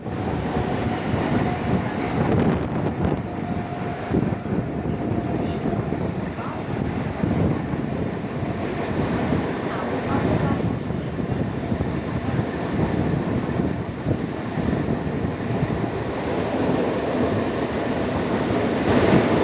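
A Mumbai local train runs along the line with an empty coach, a continuous loud rumble and rattle of wheels and carriage, with gusting wind buffeting the microphone throughout and no clear talk.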